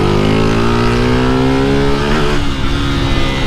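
A tuned motorcycle engine with a modified camshaft screams at high revs on a city street, very loud and close, holding a sustained high-pitched wail that dips briefly before climbing again.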